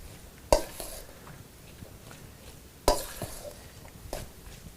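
A utensil mixes tomato and onion into guacamole in a bowl, giving two sharp knocks against the bowl and soft, quiet stirring sounds in between, close by.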